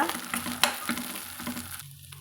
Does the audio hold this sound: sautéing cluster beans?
yes